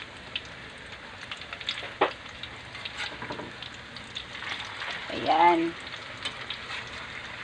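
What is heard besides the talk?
sayote omelette sizzling as it is flipped in the pan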